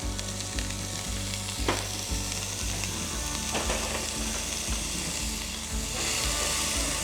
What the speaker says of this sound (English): Let that oil heat up, and then we're going to get in our onions.